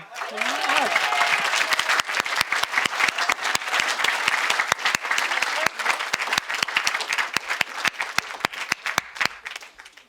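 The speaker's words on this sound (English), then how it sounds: "please give a warm round of applause for Heather." An audience at a storytelling event applauds as a speaker takes the stage, a loud burst of many hands that thins into scattered individual claps, with a voice heard briefly at the start.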